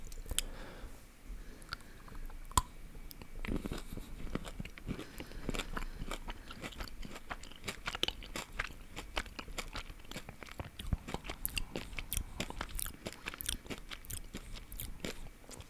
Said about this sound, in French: Il y a une partie qui croustille. C'est pas de la noisette.